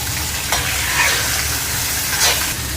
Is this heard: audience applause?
no